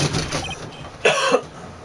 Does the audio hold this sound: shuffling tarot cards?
no